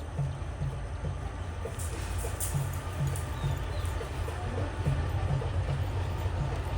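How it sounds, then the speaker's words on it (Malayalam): The Night Mail train from Colombo rolls into a station on the Ella to Badulla line in Sri Lanka, with a low steady rumble and regular wheel clunks over rail joints, a faint squeal above, and no voices. "അങ്ങനെ ഇതാ ട്രെയിൻ കടന്നു വരികയാണ്"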